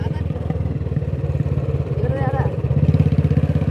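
A motorcycle engine runs close by with a rapid, pulsing putter that rises slightly toward the end, under a brief whistle-like sound in the middle.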